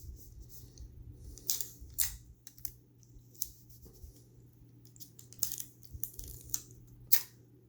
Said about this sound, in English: let me tape it also